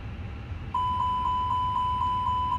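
A fire test warning alarm in the cockpit of a Fenix A320 flight simulator sounds as a rapid series of clear, evenly spaced electronic beeps. They start suddenly and repeat steadily over a low hum.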